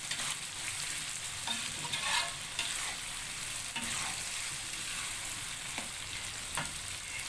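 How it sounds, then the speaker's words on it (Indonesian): Tomato pieces frying in a pan with half-cooked baby squid for sambal, a steady close sizzle with occasional stirring scrapes and clicks, no voices. "kita masukkan potongan tomatnya. Kita masak sampai si tomatnya layu."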